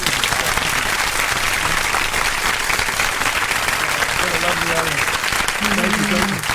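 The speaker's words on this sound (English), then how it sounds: "let me give you a round of applause" A crowd claps and cheers loudly and steadily throughout, with a few voices briefly audible over the applause near the end.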